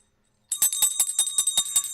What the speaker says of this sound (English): hear a bell sound like this